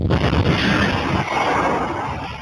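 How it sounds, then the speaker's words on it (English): Cars exploding and burning in a yard fire, Holdens and Mazdas set alight with fuel, giving a loud, sustained roaring rumble with crackling bursts that fade slightly toward the end. "The blaze spread quickly, triggering explosion after explosion"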